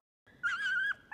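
A dog gives a short, close, high whimpering whine that lasts under a second, with a second brief whine starting just after, during a shallow-water fishing outing.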